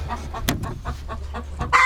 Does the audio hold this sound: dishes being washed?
no